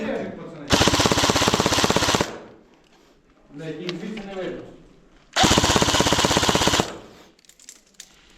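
Two long bursts of rapid full-auto airsoft fire, buzzing and loud, with a voice talking in the gap between them.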